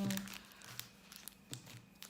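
A Pokémon booster pack's foil wrapper being torn open by hand, faint crinkling and scattered tearing crackles, close but quiet, with a voice briefly in the background.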